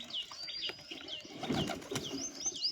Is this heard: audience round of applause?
no